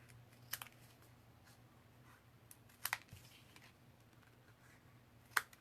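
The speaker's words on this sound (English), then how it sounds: "Now I'm just going to take my scissors and just cut the corners off." Three short, crisp snips of scissors cutting the corners off paper card stock, spaced a couple of seconds apart in an otherwise quiet room.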